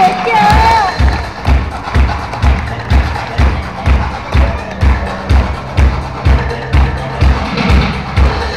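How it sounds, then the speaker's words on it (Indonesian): Audience at a safari park animal show clapping in steady rhythm, loud regular beats around two per second throughout, with crowd noise and faint voices underneath. "Dan untuk biar windanya semangat, berikan tepuk tangan"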